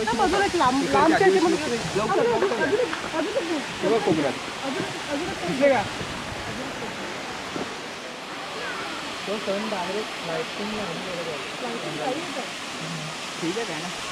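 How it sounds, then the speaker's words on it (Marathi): Powerscourt Waterfall in Ireland roars as a steady broadband rush of falling water, with voices talking over it throughout. "हे आयर्लंडचा one of the biggest waterfall आहे"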